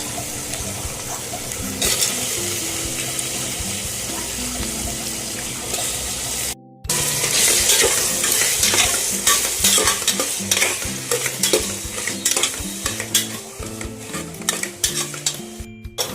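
Tomatoes being fried and stirred in a pan with onion for a wedding-style vegetable pulao: loud, close sizzling with busy spatula scraping and clatter, briefly cut off then resuming more intensely, no talk.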